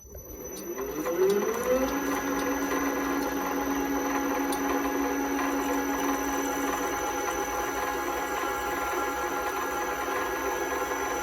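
A drill bores through a 316 stainless steel rod along an existing pilot hole while building a custom steering column, a steady whining grind that rises in pitch over the first second, then holds loud and constant with no talk.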